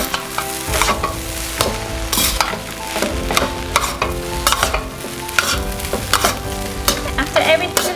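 Shrimp fried rice with fish sauce stirred and tossed in a hot pan, steady sizzling with repeated scraping strokes of a utensil, close and loud, no voices.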